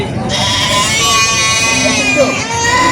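Goats for sale at a livestock market in Padre Garcia, Batangas bleat loudly and repeatedly, close by, with people talking over the calls.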